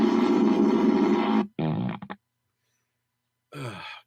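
A comedic fart sound effect played over a radio show: a loud, close, buzzing blast about a second and a half long, followed by a shorter sputtering tail and a brief rasp after a pause.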